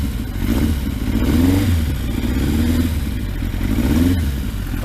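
A Yamaha Thunderace motorcycle engine idles up close with its carburettor stripped for MOT work, a steady low throb with uneven wavering revs as it runs on until the petrol runs out.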